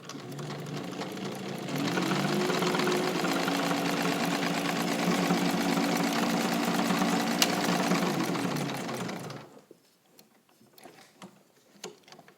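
A restored White all-metal rotary sewing machine with a size 18 needle stitching across a pocket in a fast, steady, close mechanical whir, running for about seven seconds, then stopping into faint handling clicks.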